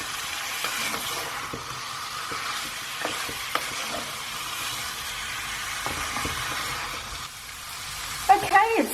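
Goat mutton browns over high heat for an Indian-style curry, a soft frying sizzle with intermittent stirring scrapes and clinks of a utensil against the pan, close and fairly quiet, ending in a few sharper knocks.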